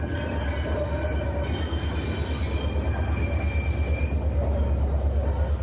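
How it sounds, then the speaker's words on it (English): Two diesel helper locomotives pass from the Pittsburgh Line onto the Fort Wayne Line at CP Pit, with a steady low engine rumble, rolling wheel noise and faint squealing tones, close and continuous. "The 2 diesels pass from the Pittsburgh Line onto the Fort Wayne Line as they come past the sign identifying the location as CP Pit."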